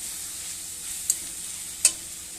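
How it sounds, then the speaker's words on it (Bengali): A spice paste of turmeric and chili powder sautés in mutton fat for a jackfruit curry, producing a soft, steady hiss with two brief sharp ticks of a utensil against the pan. "এবার মশলাটা কষিয়ে নেবো"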